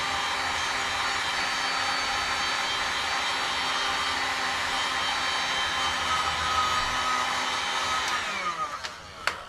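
A heat gun blows steadily on a vinyl decal applied to a vehicle headlight, a constant loud whooshing roar that holds for about eight seconds before cutting off, followed by a couple of faint knocks.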